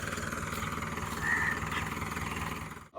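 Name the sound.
tractor engine running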